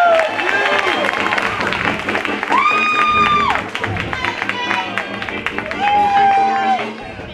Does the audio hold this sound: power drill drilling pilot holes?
no